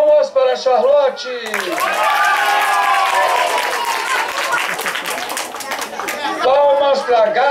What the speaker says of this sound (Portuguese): Palmas para Charlotte!